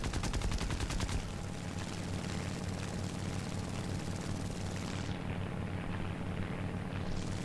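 Aircraft guns on an A6M3 Model 22 fighter firing in the combat flight game War Thunder, a rapid stuttering burst over a constant roaring engine drone, then the steady engine roar carries on alone.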